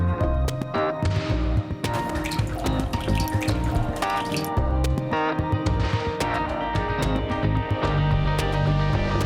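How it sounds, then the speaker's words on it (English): Cooking oil pours steadily into a large container, a continuous splashing and glugging with scattered drips throughout, no voices. "We open up each one and pour it into the container."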